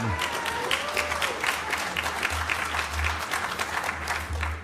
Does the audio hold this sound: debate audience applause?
yes